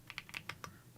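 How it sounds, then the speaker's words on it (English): Quick keystrokes on a computer keyboard, about half a dozen crisp clicks in an uneven rhythm, fairly quiet and close, with no voices. "Typing noises."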